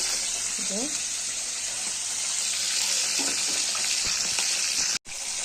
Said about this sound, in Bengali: মাছগুলো আমি ভাজা বসিয়ে দিয়েছি মাছগুলো সব কটা ভেজে নেবো এইভাবে